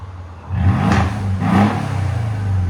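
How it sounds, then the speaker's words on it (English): A 2013 Mercedes S550 with a 5.5L V8 turbo and muffler delete, heard close as the engine revs up twice in quick succession over a steady rumbling idle, loud throughout. "You can hear the turbo spooling up"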